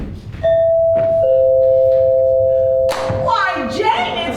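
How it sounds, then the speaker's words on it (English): A doorbell chimes during a stage comedy performance, a two-tone ring with the second note held long before voices break in over it. "Listen to the doorbell."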